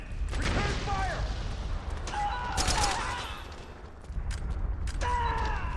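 Gunfire in the Metal Gear Solid 4 video game: repeated bursts of shots in an exchange of fire, with distinct volleys around the start, middle and end over steady game background noise, while people talk over it.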